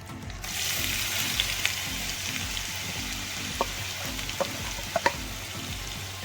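Chopped onions, four of them, sizzle steadily in hot oil in a home kitchen pan, a dense continuous frying hiss with a few faint clicks of stirring, heard close with no talking.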